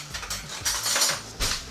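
Spoon scraping cooked butternut squash from an Instant Pot pressure cooker, a few close metallic scrapes and clinks in quick succession.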